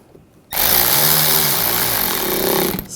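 A power drill runs loud and close for about two and a half seconds in one sustained whir, driving screws into the rear bumper trim and mud flap of a 2014-2020 Nissan Rogue.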